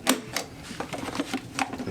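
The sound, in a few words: Doona infant car seat base latch clicking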